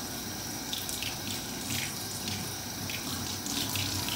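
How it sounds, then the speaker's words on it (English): Water runs steadily from a kitchen tap as matzah is rinsed under it, making a continuous splashing hiss with faint shifts as the flow hits the matzah, with no voices. "So I'll give it another rinse. As you can see, one more time under the water."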